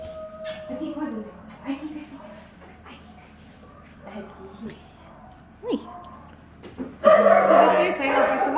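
A dog gives several short yips and barks scattered among people talking, ending in a louder burst of whining, high-pitched barking close by.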